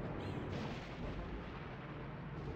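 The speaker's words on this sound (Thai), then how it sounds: "ระเบิดหมู่บ้านเฉยเลย" A village is blown up in the video game Grandia II: a dense, continuous rumbling roar of explosion, steady and heavy throughout, with no speech.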